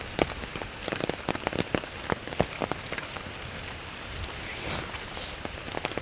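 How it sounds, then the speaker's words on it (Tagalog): Steady rain falls on a hard surface, with dense pattering and sharp individual drops tapping close by, continuous and moderately loud. "Walang tigil ang ulan dito sa amin."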